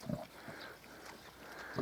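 Mangalica piglets root and graze outdoors, giving faint, soft snuffling grunts at close range against a quiet background.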